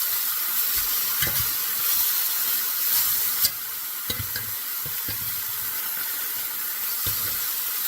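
A ribeye steak sizzles steadily in a cast iron pan, a loud continuous hiss of frying with occasional sharp pops and crackles, no voices over it.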